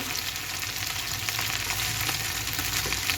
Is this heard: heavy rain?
no